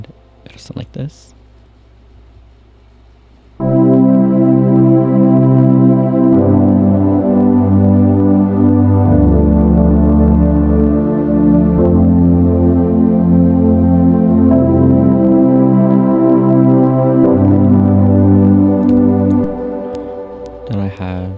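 Layered synth pads and electric piano from the production of a song play together as full sustained chords that shift every few seconds, loud and steady for about sixteen seconds after a brief faint start.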